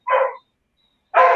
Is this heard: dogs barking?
yes